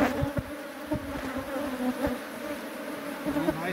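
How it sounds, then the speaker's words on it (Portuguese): A swarm of honey bees drones steadily nearby, a dense continuous buzz with small swells and a few brief low thumps throughout. "Enxame promissor, pessoal."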